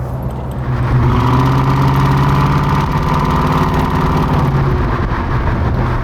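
An Auburn Speedster replica idles loud and close, its steady low engine rumble starting after a brief quiet moment and holding evenly to the end before easing slightly.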